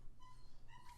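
A dog gives a faint, brief high whimper twice over a low background hum.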